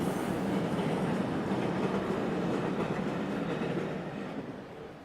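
A train runs through the mountains of Cinque Terre in a loud, continuous rumbling roar of wheels and carriages, heard close up before fading slightly near the end.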